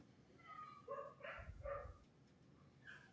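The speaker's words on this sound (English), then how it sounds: "It's got dogs yelling." Dogs bark and yelp in a short cluster of a few tonal, whimpering barks in the middle, somewhat distant and fairly quiet, with a faint higher yip near the end.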